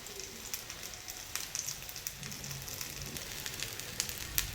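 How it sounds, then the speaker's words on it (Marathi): A sandwich toasting in a pan, with a faint, steady sizzle and scattered small crackles and pops throughout. "अशा पद्धतीने सर्व छान भाजून घ्यायचे आहे."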